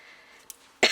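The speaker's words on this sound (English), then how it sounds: "put up with my little bit of coughing" A single sharp cough bursts out at the very end after near quiet, close and abrupt.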